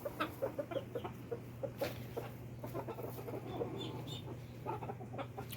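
Backyard chickens cluck in a rapid series of short, close calls over a steady low hum, with an occasional louder squawk among the brood.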